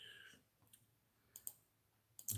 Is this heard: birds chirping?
no